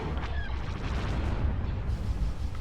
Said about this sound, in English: We're going to keep beating them with the ion cannon.